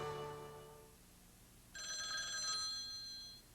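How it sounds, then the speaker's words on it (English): A telephone rings in a 1994 TV commercial, a short bell tone that fades and is followed by a brighter, louder trilling ring, close and clear with no talk over it. "My telephone rang."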